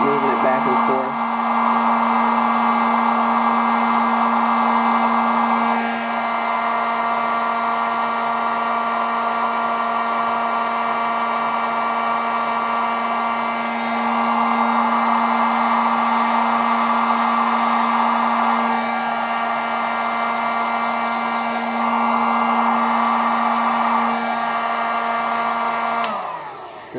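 Heat gun shrinking heat-shrink tubing on car radio wires, a steady loud blowing whine that holds for the whole stretch with only slight dips as the gun is moved back and forth.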